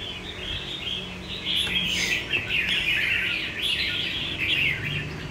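A red-whiskered bulbul songbird sings close by in bright, rippling phrases, with strong bursts rising and falling over a few seconds against a faint, steady background hiss.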